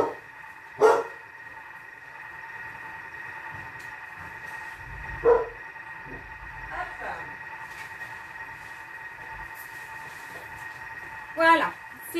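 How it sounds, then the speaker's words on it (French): A dog barks indoors in a home kitchen, three short loud bursts spaced several seconds apart over a steady background hum, while someone speaks. "Le chien aboie, je vais aller ouvrir au chien."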